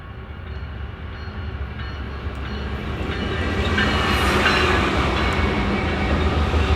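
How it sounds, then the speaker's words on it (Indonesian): Loud, steady rumble of a train rolling past close by on Route 66 in Flagstaff, Arizona, growing heavier as it goes, with no voices. "Baru datang udah ada kereta yang lewat."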